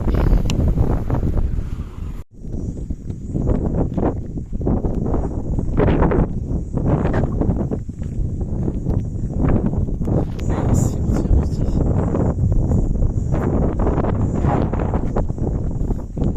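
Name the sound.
wind on open plain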